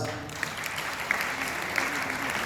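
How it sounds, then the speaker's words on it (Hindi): Sustained audience applause fills a stage ceremony where an Ayush minister honours Dr. Vikram Chauhan. Steady clapping continues throughout at moderate loudness, with a few sharper claps standing out. "तालियों की आवाज"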